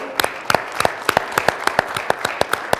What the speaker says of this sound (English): Let's give a round of applause for Eric Olson.